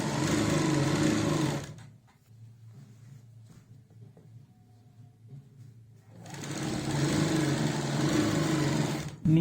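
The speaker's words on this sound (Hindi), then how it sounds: "तो हम यहाँ पे पलट के ऐसे सिलाई लगाएंगे और ये सिलाई हमारी सीधी रहनी चाहिए" A sewing machine stitching salwar fabric runs in a loud, steady whir close by, stops for several seconds of near silence, then starts up again.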